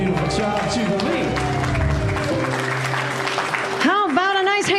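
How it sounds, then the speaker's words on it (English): A congregation at a Jubilee Sunday celebration service claps together after a performance. Loud cheering voices and whoops ring over the applause, with a strong, lively room sound throughout. "Give yourselves a round of applause."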